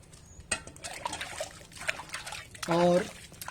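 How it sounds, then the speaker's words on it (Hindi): Water is poured onto a potted papaya plant, and a soft trickling splash runs through the clip. Someone talks over the pouring, and a short tonal sound rises near the end. "पानी डाल दीजिएगा"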